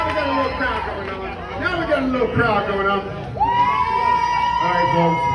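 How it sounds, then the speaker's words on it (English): A crowd chatters and calls out on Bourbon Street at night, with dense, loud overlapping voices, a few brief shouts, and a sustained sung or whooping tone near the end rising over the babble. "Now we got a little crowd going on."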